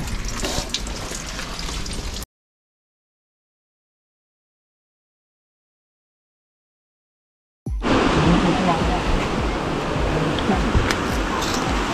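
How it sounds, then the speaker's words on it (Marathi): Water gushes steadily from a cow-mouth spout at Mahabaleshwar Temple in Gokarna, a loud, close, hissing flow that cuts out completely for several seconds and then resumes, even stronger. "असं पाणी येत आहे गोमुखाच्या तोंडातून"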